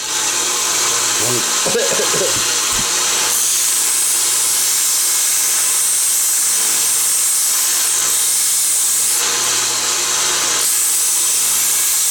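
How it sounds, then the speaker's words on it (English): A belt sander with an 80 grit belt grinds hot micarta. The hissing roar is loud, close and continuous, with a brief voice near the start. "Let's sand it real quick. Just an 80 grit belt."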